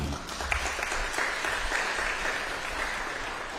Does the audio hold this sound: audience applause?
yes